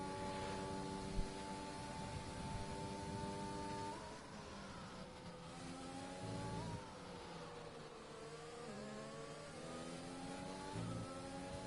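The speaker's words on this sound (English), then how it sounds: "Really pushing his Williams car to the limits to stay out of the grasp of Thomas Walsh." Williams Formula 1 car engine in a racing video game at the Japan circuit, a high whining tone climbing and dropping through gear changes, with sustained revving and downshifts, no talk.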